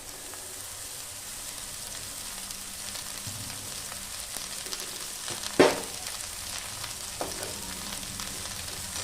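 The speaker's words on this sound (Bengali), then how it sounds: "কড়াইয়ে পেঁয়াজটা নাড়ার পর এর মধ্যে আমি দিয়ে দেবো আমি যে বাঁধাকপিগুলো কেটে রেখেছিলাম" Shredded cabbage and onion fry in oil in a wok, a steady close sizzle running throughout with a few sharper scrapes and clatters of stirring.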